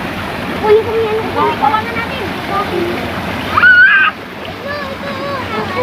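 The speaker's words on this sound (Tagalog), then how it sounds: "Mababaw po ngayon yung sapa." Water of a shallow creek flows and splashes steadily in the background, a close, continuous rushing wash, while children and adults talk and call out over it.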